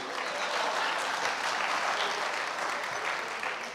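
Audience applause for a recited Urdu poetry couplet, a dense, even wash of many hands clapping steadily at moderate volume throughout.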